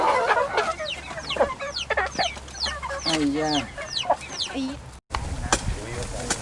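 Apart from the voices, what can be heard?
chickens clucking on a farm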